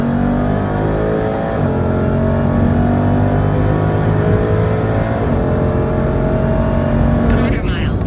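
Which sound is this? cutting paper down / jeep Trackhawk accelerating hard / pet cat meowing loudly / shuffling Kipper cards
jeep Trackhawk accelerating hard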